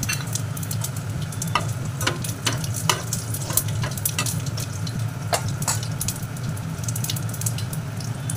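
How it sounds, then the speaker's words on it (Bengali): Bay leaf, cumin and dried chilies crackle loudly in hot oil, a close, dense sizzle broken by frequent sharp pops and spatters throughout. "তেলটা গরম হয়ে গেছে, আমি তেজপাতা, জিরা, শুকনো লঙ্কা সব দিয়ে দেবো"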